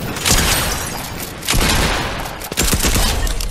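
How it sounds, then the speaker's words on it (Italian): In a Fortnite match, loud dense gunfire bursts in rapid succession, with sharp cracks and booms clustered throughout and a few distinct shots near the end. "Dai che sento degli spari"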